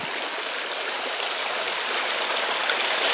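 A forest stream in Saxon Switzerland near the Lichtenhain waterfall rushes steadily, a dense broadband wash of flowing water that stays even and fairly loud throughout, with no voices.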